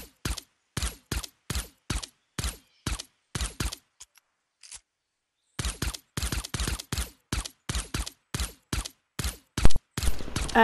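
Gunfire in the Fortnite video game, crisp single shots repeated at a steady rhythm roughly every half second, a brief pause midway, then more evenly spaced shots, clean and without talk.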